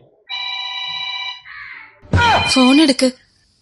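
A phone rings with a steady electronic tone at the start of a comedy skit, then a softer lower trill follows before a voice breaks in loudly over the end.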